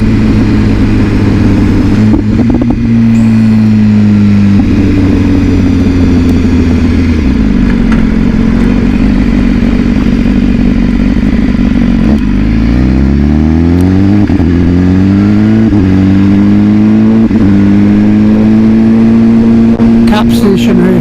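A BMW S1000RR motorcycle engine pulls hard through the gears, loud and close, its rising pitch broken by quick-shifter gear changes several times across a long ride.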